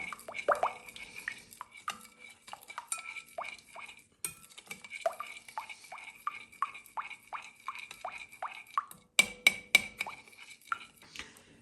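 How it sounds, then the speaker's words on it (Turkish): A spoon stirs a mix of olive oil, thyme, chili flakes, salt, cumin and black pepper in a bowl, giving soft, close, rhythmic scraping and clinking strokes at a steady pace, with a faster run of taps near the end. "Bunları güzelce karıştırıyorum"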